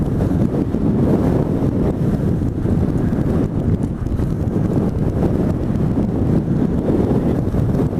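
Strong wind roars steadily against the microphone during an off-road trials bike ride on rough single-track in Bulldog Canyon, Arizona, a loud, constant rumbling buffet with no talking.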